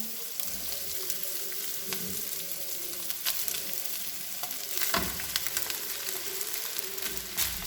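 Cooked rice tipped into a hot pan for egg fried rice with vegetables and egg: a continuous crackling sizzle with scraping and stirring clatter, fairly close and steady, with no talking.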